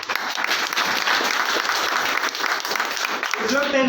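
Dense, steady audience applause fills a seminar hall during a business plan presentation, loud and continuous throughout, with a voice starting to speak over it near the end.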